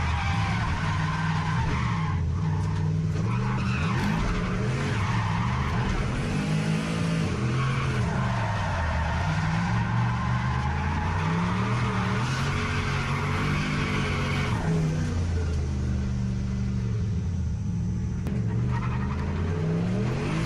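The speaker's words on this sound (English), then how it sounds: "But here's Leon, just his first run of the day on the dry track down on the west track" A drift car on a dry track, its engine revving and howling through gear changes while the tires squeal and skid loudly and continuously for the whole stretch, close and sustained, with no talk.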